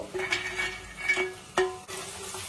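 Bitter gourd pieces and lentil dumplings tumble into a pan for shukto, a few clattering impacts and scrapes over a steady sizzle, close by with no voices.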